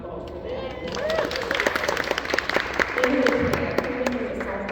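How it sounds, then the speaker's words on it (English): Moderate applause from an audience at a Blacks in Technology panel, clapping for a co-panelist under and between talking voices. "Round of applause for that."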